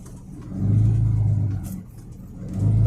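A Cummins diesel engine idles with a low, steady rumble that swells in loudness twice, suggesting light revs, close by with no talking.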